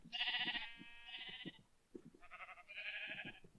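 Sheep in the Minecraft video game bleat in two pairs of loud, close, wavering calls, with a short pause between them.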